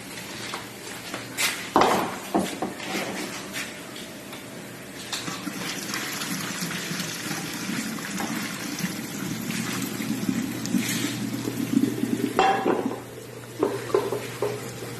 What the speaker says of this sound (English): I'm about to go rinse them out with the drainer